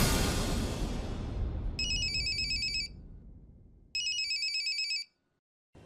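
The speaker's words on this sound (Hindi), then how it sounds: "अनामिका के डॉक्टर का फोन है।" A telephone rings twice in a domestic drama, two short bursts of bright electronic trilling separated by a pause as background music fades away, with no talking.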